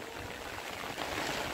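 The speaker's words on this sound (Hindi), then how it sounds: "जितना बारिश दे रहा है दोस्तों मत पूछो" Heavy monsoon rain pours down in a steady, dense hiss of water, unbroken and fairly soft overall, with no voices over it.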